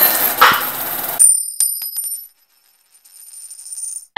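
A penny coin drops into a cup, giving a sharp metallic clink with a short ringing tail, followed by a few faint small knocks and then quiet.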